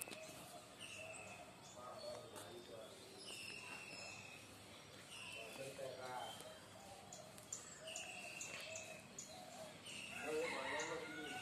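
A rooster crows intermittently in the background of a home yard where a net is to be put up for the chickens, faint bird calls scattered throughout and talk alongside.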